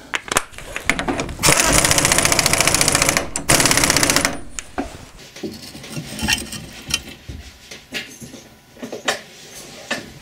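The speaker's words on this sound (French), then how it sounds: "Et je vais le serrer approximativement à la clé à choc." An impact wrench hammers a driveshaft nut on a Renault Twingo in two loud, rapid rattling bursts, the second shorter, followed by quieter clanks and handling noises in a workshop.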